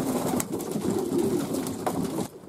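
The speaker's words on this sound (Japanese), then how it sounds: "屋根の上にこんなにいっぱい鳩が残ってます" Steady low cooing of homing pigeons on a loft roof, layered over itself, continuous and fairly close, with a few brief rustles or flaps breaking through.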